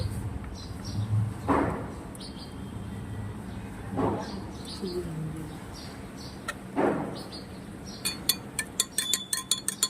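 A spoon scooping and stirring turmeric powder in a container gives a few soft scraping sweeps, then a quick run of bright metallic clinks at the end as it mixes, close and moderately quiet.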